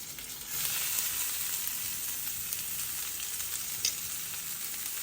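Chopped onions sizzle steadily in hot oil while frying for a chicken varuval, a continuous close crackling hiss with a few small pops and no voices.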